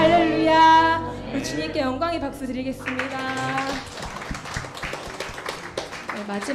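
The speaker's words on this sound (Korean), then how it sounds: "우리 주님께 영광의 박수 드리겠습니다" A congregation claps in praise during a worship livestream, singing and keyboard giving way to a dense, steady round of applause that carries to the end.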